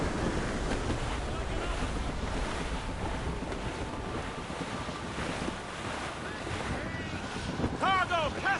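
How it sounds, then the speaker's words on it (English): Storm-tossed sailing ship in Assassin's Creed Rogue pushing through a rough squall: steady roaring wind and crashing waves fill the scene throughout, with a brief voice near the end. "Careful! It's quite a rough squall, Captain."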